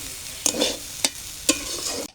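Vegetables with ginger and cumin paste fry for khichuri while a spoon scrapes the pan in three sharp strokes over a continuous close sizzle, ending abruptly.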